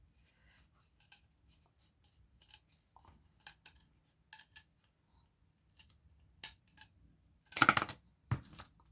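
Scissors snip along a marked line on material for a Dollar Tree candle holder, in short, sharp, close cuts spaced irregularly against near silence, ending in a louder cluster of snips.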